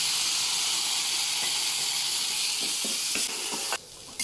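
Loud, steady sizzling of tomatoes in hot tempering oil, a dense crackling hiss that thins briefly near the end.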